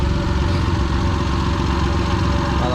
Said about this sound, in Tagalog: Binuksan muna natin yung makina.